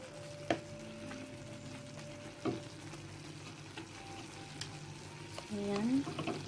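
Bagoong ginamos, fermented fish paste with tomato, frying in a pan with a soft steady sizzle, a few clinks of a utensil and a louder stirring scrape near the end.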